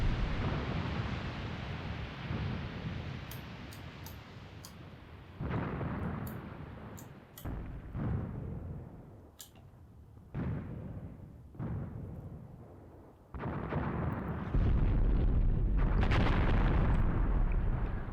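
Artillery shells landing in a Graviteam Tactics battle: a run of deep booming impacts and rumbling blasts, some distant and others louder and closer, with sharp cracks and quieter gaps between them.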